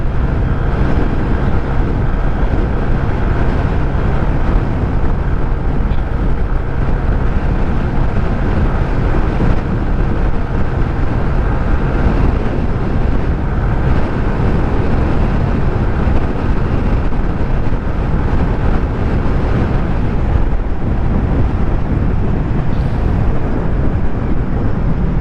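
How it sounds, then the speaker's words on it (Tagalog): Strong wind roars and buffets the microphone while riding a Honda Click 125 scooter at speed, a loud, constant broadband rush that masks the engine and runs unbroken throughout. "Medyo may kalakasan kasi yung hangin"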